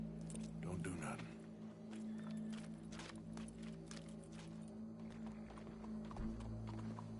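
Slow hoof clops of a horse walking, steady and moderately close, with a low droning hum underneath and voices talking faintly over it, in the video game Red Dead Redemption 2.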